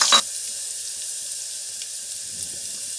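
Garlic and ginger dropped into onions frying in a pan for masoor dal, a brief loud burst of sizzling at the start that settles into a steady, even frying hiss.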